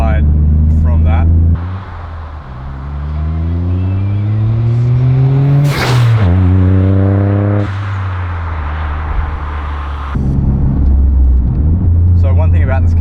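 A Toyota GR Yaris with a modified exhaust idles with a deep rumble, then revs up in a rising, raspy climb. It peaks with a sharp crack, settles back, and rumbles loudly again.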